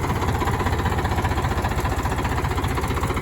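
A 42-horsepower tractor engine under throttle while working firm soil at full depth. It gives a loud, steady, close rumble with a fast knocking pulse throughout, and no voices.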